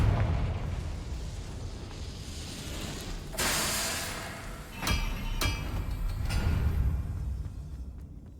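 Confringo explosion spells in Hogwarts Legacy, several heavy blasts with bright bursts and rumbling tails, loud and close amid continuous game combat noise.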